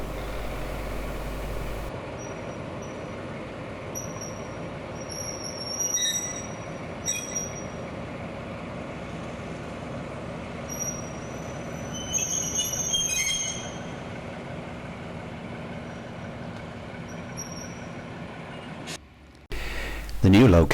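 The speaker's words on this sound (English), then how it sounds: "our train then heads over the River Irwell Bridge onto the new location for the signal post" A heritage train on the East Lancashire Railway crosses the River Irwell Bridge near Rawtenstall, with a continuous heavy rumble, high metallic wheel squeals and clicks over the rails, and voices briefly audible.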